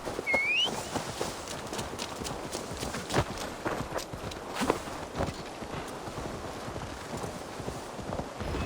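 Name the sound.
horse hooves walking in video game Assassin's Creed Valhalla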